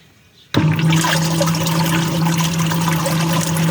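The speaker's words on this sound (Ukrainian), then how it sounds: "Так я вам скажу, непогано він мішає. Аж бурлить вода." A small propeller in a Forte CF-16 PRO sprayer churns water after switching on with an abrupt start, then a steady loud bubbling, rushing wash with a constant motor hum underneath, close and alone.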